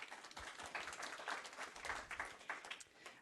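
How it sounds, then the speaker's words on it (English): Applause rises from the audience at a Committee of the Whole council meeting in Oak Bay, a dense patter of clapping that holds steady for a few seconds at a moderate, slightly distant level. "as nice as applause is, it can be intimidating to others"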